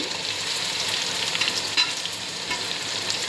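Onion, garlic and ginger paste sautéing in a pan for a toddy-shop style fish head curry. A loud, steady sizzle runs throughout, with light stirring scrapes and one brief knock near the middle.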